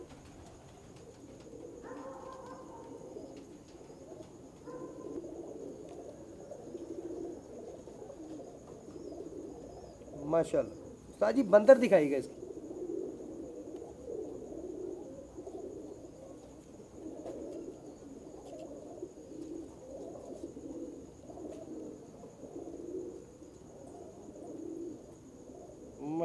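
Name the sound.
pigeons cooing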